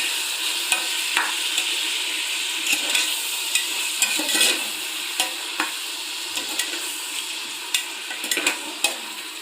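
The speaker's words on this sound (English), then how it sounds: "So now I'll give a quick mix of all these onions." Chopped onions frying in a pan for veg pulav hiss in a loud, steady sizzle, while a utensil stirs them with scattered scrapes and light taps throughout.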